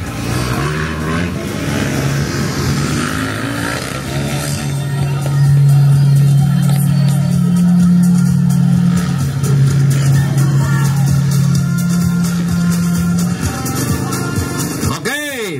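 Pro Open class motocross motorcycles rev at a race in Cagayan de Oro City, engines droning and rising in pitch near and loud over crowd noise, with a sustained whining tone through the middle and a sharp rev near the end.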